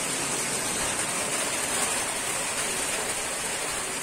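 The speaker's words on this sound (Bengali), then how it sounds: "এই দেখো বৃষ্টিটা কি রকম ভাবে এলো দেখো" Heavy rain pours down outdoors in a steady, dense hiss that holds at an even loudness throughout, with no voices.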